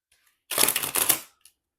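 A single brief riffle of tarot cards being shuffled by hand, a quick close clattering burst lasting under a second that stops abruptly into near silence.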